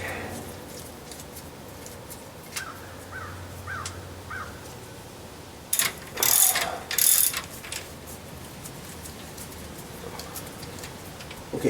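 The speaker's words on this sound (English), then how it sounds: "Loosen the bolt, leaving a couple in loose at the top so you don't drop the cover." Ratchet clicks loosening the bolts on a Ford F150 differential cover, quiet clicking early on, then several loud close bursts of ratcheting in the middle of the clip.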